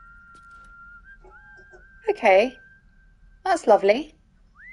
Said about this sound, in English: Someone asked, is this you whistling, or did they patch another whistler in?